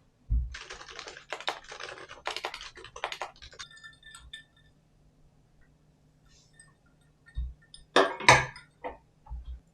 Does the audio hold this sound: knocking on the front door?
no